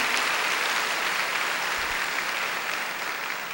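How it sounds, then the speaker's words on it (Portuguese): Audience at a Catholic religious talk breaks into applause, a steady, even wash of many hands clapping that stays at the same moderate level throughout without any voices on top. "se você quer aplaudir, aplauda"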